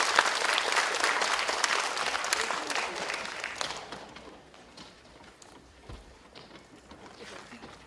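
Audience at a children's composer showcase concert applauding, dense close clapping that starts loud and gradually thins and fades over several seconds.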